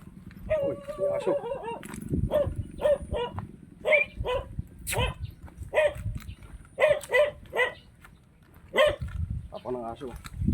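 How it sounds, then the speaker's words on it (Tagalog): A dog barks repeatedly near a rice field, sharp barks spaced in irregular bursts with rustling and a person talking at times in the background. "may aso"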